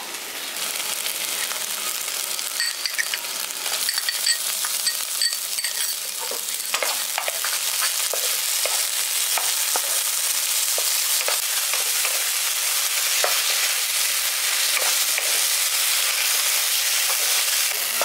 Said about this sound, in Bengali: এবার এর মধ্যে আমি দিয়ে দিচ্ছি টমেটো কুচনো।